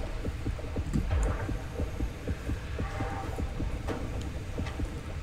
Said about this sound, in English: my heart is beeping